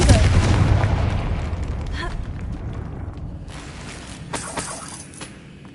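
A Confringo spell explosion in the video game Hogwarts Legacy: a loud booming blast that decays into a rumbling tail, followed by a few sharp crackling pops.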